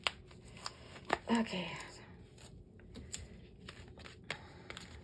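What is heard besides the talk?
pulling taped ribbon off a holder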